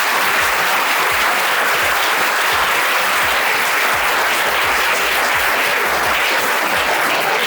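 Loud, sustained applause from a school audience at a motivational talk in an Indian inter college, dense clapping filling the whole stretch with no voices on top.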